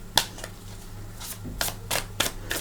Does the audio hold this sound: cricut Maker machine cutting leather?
no